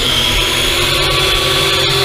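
Motors of a Drocon DC-08 large GPS drone with big brushed motors whine steadily and loudly as the throttle rises for takeoff, a constant buzzing drone with no pauses.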